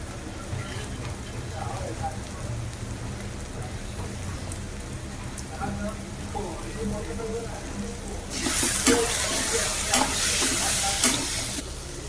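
Spices with red chili powder and salt sautéing in a pan for a fried dish of small prawns, a steady sizzle with stirring that turns louder and hissier near the end.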